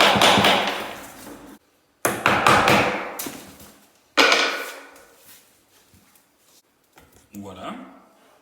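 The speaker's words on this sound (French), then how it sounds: "On l'emboîtera en tapant avec notre cale." Laminate floating floor boards knocked together with a tapping block, giving three loud, sharp wooden knocks that decay quickly, each separated by a brief pause, followed by a few softer, fainter taps near the end.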